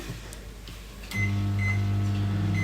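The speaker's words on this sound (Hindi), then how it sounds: "हम इसको ओवन में रख देते हैं ताकि ये गर्म हो जाए" Microwave oven reheating puris: a quiet room, a brief click, then a steady loud electric hum sets in and continues to the end.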